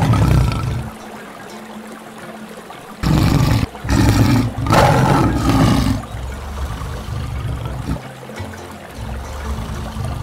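Recorded tiger roar from a toy zoo animal: a few loud, rough roaring bursts mid-clip over a steady noisy background, with no voice over them.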